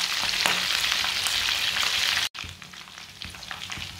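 Loud, dense sizzle of kebabs frying in hot oil and splattering, a continuous crackling hiss with scattered pops, briefly cut at the midpoint and then resuming slightly softer.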